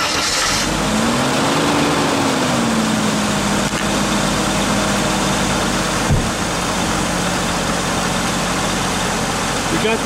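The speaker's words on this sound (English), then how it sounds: "Got the engine running" A 1986 Mercedes 300E W124 engine, with a non-charging alternator, runs at a loud, steady idle just after starting, a faint whining tone gliding and then settling over the constant engine rumble.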